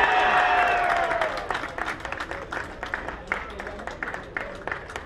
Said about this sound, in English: Let's give them another round of applause to our commissioners of Passaic County